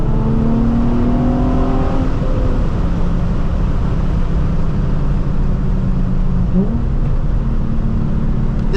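A Nissan 350Z on a downhill canyon road gives a loud, continuous in-car engine roar, with rising and falling revs suggesting downshifts and throttle changes, and no voices.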